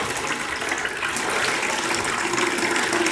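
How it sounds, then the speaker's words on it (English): Water pours and splashes steadily from a supply line during a bathroom renovation, a continuous broadband gush that runs unbroken and fairly close, with no talk over it. "I'm trying to figure out why there's so much water still coming out."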